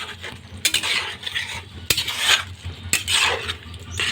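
A utensil stirs and scrapes through thick Kashmiri dahi aloo dum with yogurt and Kashmiri chili in a pot, giving repeated scraping swishes with a few sharp metallic taps against the rim, close and without talk.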